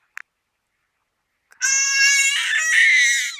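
A baby screams in loud, sustained, high-pitched bursts at close range after a brief quiet start, while lying in a crib during an early attempt at rolling over.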